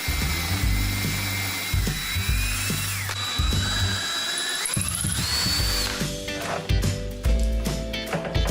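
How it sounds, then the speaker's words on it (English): A power drill bores dowel holes into the wooden top of a cart. It whines loudly and close up, its pitch rising and falling as the bit loads, with brief stops and restarts. "To permanently secure the top to the cart, I'm drilling holes to put wooden dowels."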